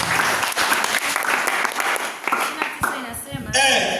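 A church congregation claps along in steady, loud applause that fills the room for the whole stretch, with a few brief vocal sounds mixed into the clapping.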